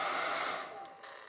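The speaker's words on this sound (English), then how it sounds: "So I'm gonna take the hairdryer to this quick," A hair dryer blows steadily on freshly stenciled paint on a double-sided wooden house decoration. Its loud, close, continuous whoosh softens slightly partway through, and no one speaks over it.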